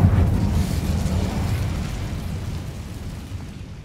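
The Incendio fire spell in Hogwarts Legacy bursts out with a loud, deep whoosh that swells at once and then slowly fades over several seconds.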